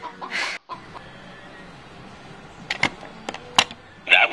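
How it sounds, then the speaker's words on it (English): A chicken clucks in a room during a cleanup, sharp scattered clucks that come close and loud near the end over a faint room hum, with no talk. "Oh my gosh, there's a chicken!"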